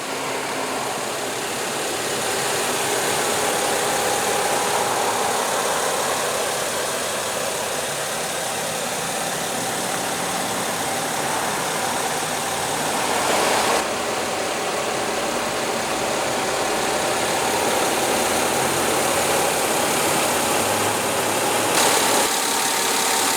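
Steady idle of a 2016 Mercedes-Benz GLE's 3.5-liter V6 engine, a continuous even mechanical hum with faint ticking, heard close and unchanging for over twenty seconds.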